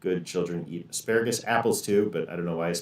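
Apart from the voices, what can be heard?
None of the usual background noises is heard.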